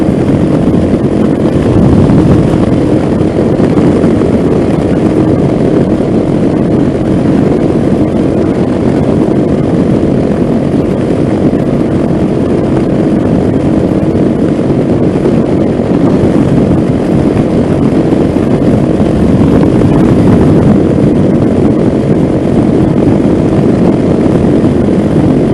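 Venom Ghost 250 dirt bike engine on a ride, a loud, steady, close rumbling drone with wind rush that holds throughout with only slight swells in throttle.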